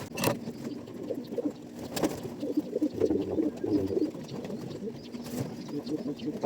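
Pigeons coo softly and repeatedly near their cage in the heat, under a busy background of rustling, clatter and people talking.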